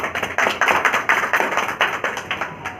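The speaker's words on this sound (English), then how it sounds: "Please give a big round of applause." A dense round of applause from an audience at an International Women's Day celebration held by a human rights council, with many hands clapping together in a steady, fairly loud wash that swells in rhythmic pulses.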